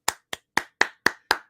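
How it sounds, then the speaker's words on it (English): Six sharp, separate hand claps land in an even, slightly slowing rhythm, close and crisp with silence between each. "I'm going to do the old clap right now"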